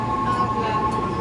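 Passenger train at a station, a steady loud rumble with a sustained tonal hum, close by and continuous for about a second.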